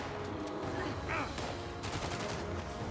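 Rapid gunfire crackles in the Fallout 76 video game during a boss event, a dense, loud burst of overlapping shots sustained for a few seconds with a voice talking over it.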